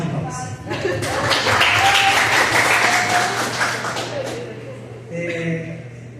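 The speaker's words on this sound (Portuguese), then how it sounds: "Salve de palmas." Crowd applause swells over a live talk-show broadcast, a dense wash of clapping that rises after the first half second, holds steady, then thins out, with voices talking beneath and afterward.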